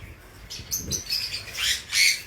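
Pet birds such as lovebirds and cockatiels chirp in a series of short, bright calls that swell toward the end, close by over a faint background hum, with no voices.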